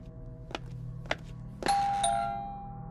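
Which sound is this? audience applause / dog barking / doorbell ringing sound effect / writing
doorbell ringing sound effect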